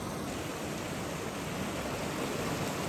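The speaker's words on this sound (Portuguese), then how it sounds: "água do riacho." A farm creek swollen after flooding rushes with a continuous, even hiss of flowing water, close and steady, with no voices.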